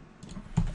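A few quick keystrokes tap on a computer keyboard while recipes are typed into cooking software, the light clicks close and sparse against a quiet room hum.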